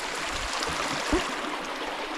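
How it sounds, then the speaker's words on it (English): A little stream flowing near a portage on a lake loop in Algonquin, a steady soft rush of water with no voices. "This is a little stream"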